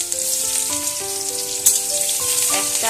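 Sliced onion dropped into hot oil with fried dried red chilli, a loud close sizzle and crackle that stays steady, with a sharp burst as the onion hits the pan and light stirring scrapes.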